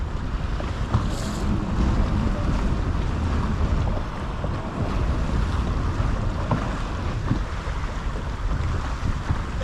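Strong wind buffets the microphone on a tropical coast during a fishing trip, a steady low roar with rushing gusts and a faint wash of surf underneath, and no voices.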